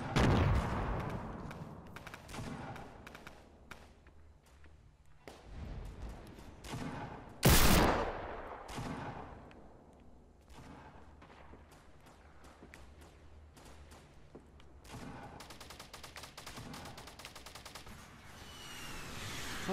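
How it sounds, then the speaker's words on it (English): Explosions and gunfire ring out in a Fortnite Battle Royale match, with scattered shots and booms, one sharp loud blast standing out midway, and bursts of rapid fire toward the end. "All the explosions going on."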